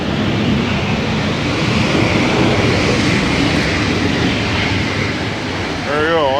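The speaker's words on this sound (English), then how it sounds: "Okay, so there's going to be airplane noises. This is the backside of John Wayne Airport" An Alaska Airlines jet lands at John Wayne Airport, its engine noise a steady, loud, broadband roar heard from the airport's backside. A rising whine appears near the end.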